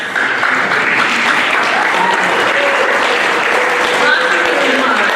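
An audience at an event claps together in unison, a dense, loud and steady burst of applause and crowd noise lasting throughout, with no pauses between claps.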